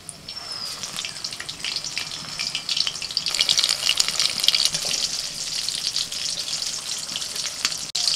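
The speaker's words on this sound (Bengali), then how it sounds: "একইভাবে বাকি মাছগুলোকেও ভেজে নিচ্ছি" Steady, dense sizzling of small topse fish frying in hot oil, crackling and spitting continuously throughout, close by with no talking.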